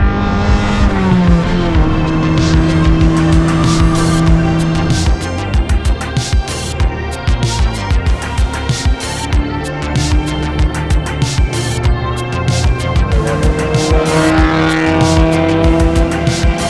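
Cars racing on Osaka's Kanjo loop among general traffic, engines revving loudly and shifting pitch continuously with rapid rhythmic crackles, close and sustained throughout.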